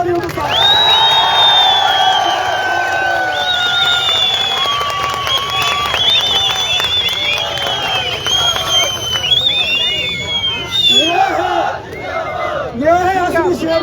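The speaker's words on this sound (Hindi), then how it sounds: "इस शेरनी के लिए जोरदार तालियों के साथ" A large crowd cheers, whoops and shouts in loud, continuous waves, with applause running underneath throughout, rising again toward the end, in honour of a young woman from Uttarakhand performing a folk song.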